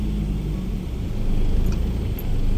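Rush-hour road traffic on a side street near Mayon rolls past as a low, steady rumble of car engines, with a couple of faint high tones, no talk.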